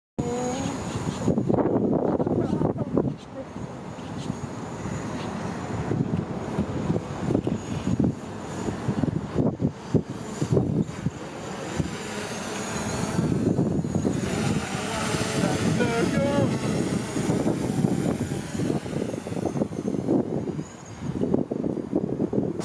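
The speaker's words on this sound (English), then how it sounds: "It is very windy today," Strong wind buffets a microphone outdoors on a gusty day in Houston, with low rumbling gusts that rise and fall continuously and a faint high tone running underneath.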